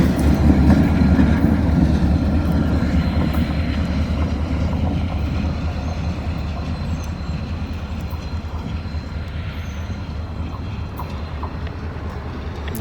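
An old Burlington Northern SD42 diesel locomotive rolls past on a railroad line, a loud, steady rumble and engine drone with rapid wheel clatter, fading slightly as it continues by.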